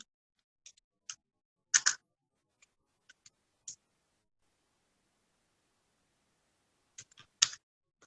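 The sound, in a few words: typing "fashion house" on a computer keyboard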